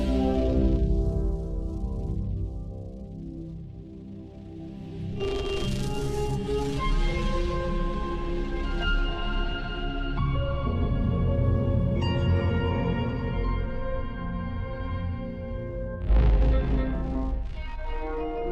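A textural synthesizer patch colored by chorus and phaser effects, with sustained shimmering tones that swell and shift in layers, plays steadily and fairly loud with no talking.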